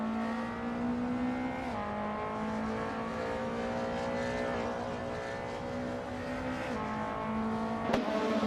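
Race cars in a racing video game roar together in a steady, continuous engine drone, pitch shifting slightly as they change gear, with a brief sharp click near the end; no talking.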